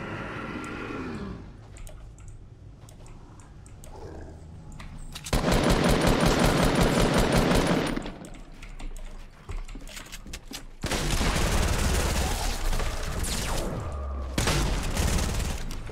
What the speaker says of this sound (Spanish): Escucho un disparo por acá.